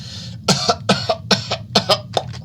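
A run of about six harsh, evenly spaced coughs sounds close and loud, with no speech around them.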